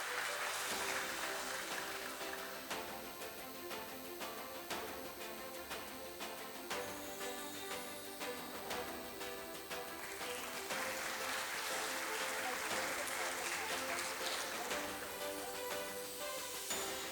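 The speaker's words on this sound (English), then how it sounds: "let's do at least one round of applause so I can check the spirit of my dear audience" A dense, steady round of audience applause at a corporate stock listing ceremony for Global Ocean, sustained and moderately loud throughout with no talk over it.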